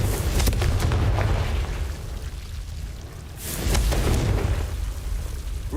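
A fire spell bursts in Hogwarts Legacy, giving two broad, rumbling blasts a few seconds apart over steady game background noise.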